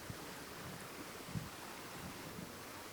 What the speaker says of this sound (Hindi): आप रफ्तार देखिए पानी के, पानी में शोर कितना ज़्यादा है